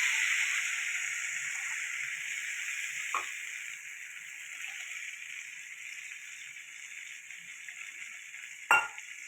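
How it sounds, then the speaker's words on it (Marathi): A faint, steady hiss of frying comes from a tempering as ground peanut paste thinned with water goes in for a Khandeshi peanut pitla. A single metal clink lands near the end, and no one speaks. "आपण जे वाटण तयार केलेलं आहे हे फोडणीत टाकून देऊया."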